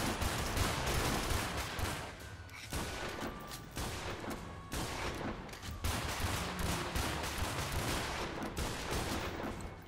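Sustained heavy gunfire aimed at a Rex in the dinosaur shooter Primal Carnage, continuous overlapping shots with brief dips, dense and loud throughout the stretch.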